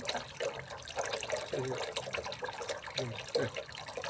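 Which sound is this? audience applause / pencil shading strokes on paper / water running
water running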